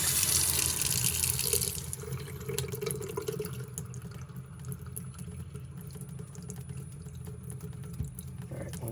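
An outdoor spigot is left open, with water running out steadily to drain. The stream is loudest at first, then settles into a softer, continuous trickle and splash, heard alone without talk.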